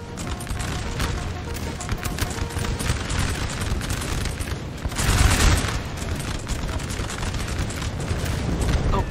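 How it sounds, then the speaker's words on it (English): Massed gunfire and booming artillery in a Napoleon Total War battle at Borodino, a dense, continuous rumble of volleys with a heavier blast near the middle, distant and wide. "Oh, they have artillery."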